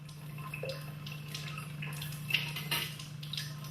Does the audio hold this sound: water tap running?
yes